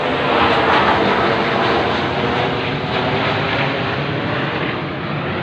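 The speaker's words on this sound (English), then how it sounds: "But why are those planes still going over at this late time?" Airplanes pass overhead late at night, a loud broad roar of engines rumbling on without a break; rain may be falling, and no one speaks.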